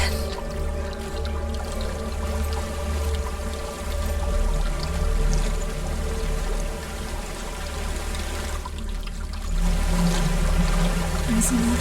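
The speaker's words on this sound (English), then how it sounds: "There's a waterfall." Waterfall in the video game Hellblade: Senua's Sacrifice, a steady rushing, pouring roar of water that stays constant and fairly loud, with a low hum beneath and a brief dip midway.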